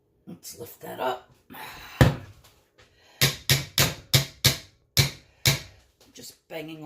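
Beater from a stand mixer rapped repeatedly against the bowl rim to knock off cheesecake batter, a run of sharp close knocks in quick clusters, with talking before the knocks begin.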